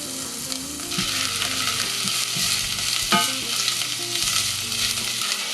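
Onions sauteing in about a tablespoon of olive oil in a hot pot, a steady close sizzle with stirring scrapes and a few sharper clacks of a utensil.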